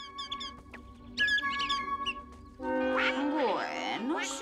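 Cartoon duck quacking in an animated children's story, high squeaky calls followed by a burst of loud nasal quacks close up, with other cartoon effects.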